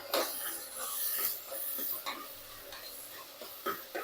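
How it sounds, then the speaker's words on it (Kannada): Onion frying in a pan with curry leaves, a soft steady sizzle with scraping stirs and light ticks of the utensil, fairly quiet and close. "ಆನಿಯನ್ ಫ್ರೈ ಆಗ್ತಿದೆ ರೀ ಇವಾಗ."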